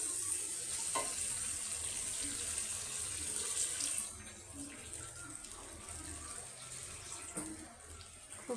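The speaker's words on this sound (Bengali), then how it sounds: "এখন আমি এখানে পানি দিব।" Water poured into a pan of spiced masala for a boal fish and tomato curry, a continuous splashing pour that eases off about halfway and gives way to quieter bubbling, close and fairly soft, with no voices.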